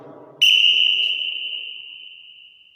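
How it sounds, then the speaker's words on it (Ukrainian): A single loud, sharp whistle blast at a kickboxing training session cuts in after a moment of quiet talk and holds steady, slowly fading over a couple of seconds. "По свистку Микола чітко займає стійку."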